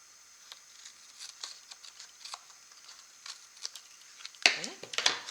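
Scissors trim strips of glue-coated paper for a collage background, a few crisp snips and rustles near the end after a quiet stretch of faint paper handling.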